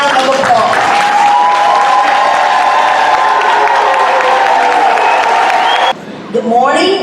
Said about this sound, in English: Everybody should stand right now and give them a round of applause.